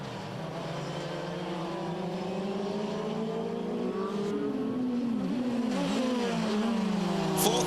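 A historic race car in a 2008 VHC endurance race drones past with a steady engine note that climbs and wavers in pitch, heard at moderate distance with no talk over it.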